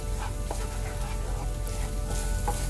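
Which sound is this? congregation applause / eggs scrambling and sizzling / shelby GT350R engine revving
eggs scrambling and sizzling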